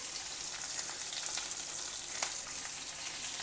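Ginger pieces, green chilies and curry leaves sautéing with roasted cashews in hot oil give a steady, close sizzle with faint crackles and one brief sharper pop, alone without talk.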